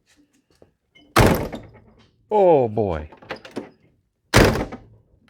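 A 1951 Oldsmobile 88 driver door slams shut twice with loud, close thunks, and a voice speaks briefly between them.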